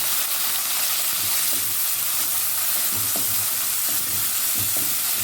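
Two medium onions frying in two tablespoons of mustard oil, a loud steady hiss and sizzle up close with occasional stirring scrapes, no talking.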